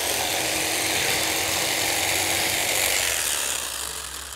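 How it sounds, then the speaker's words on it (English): A power tool runs continuously on wood, giving a loud, steady whirring drone that holds evenly for about four seconds before easing off slightly at the end. "And then you just use your power tool."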